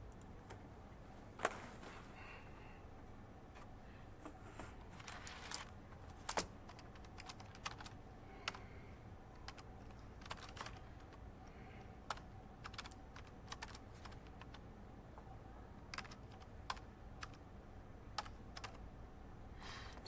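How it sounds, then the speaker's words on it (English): Computer keyboard typing while entering a function into the Desmos graphing calculator, a steady run of soft, quick key clicks over a low room hum, with no talking. "So I typed it into Desmos"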